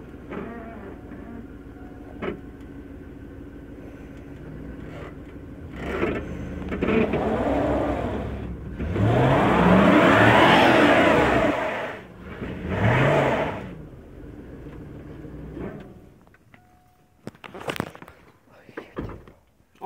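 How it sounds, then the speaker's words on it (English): A truck doing a burnout, its engine revving and tires spinning, rises to a loud sustained roar in the middle and then falls away, with a second rev after it and scattered clatter near the end. "Record the tire spinning."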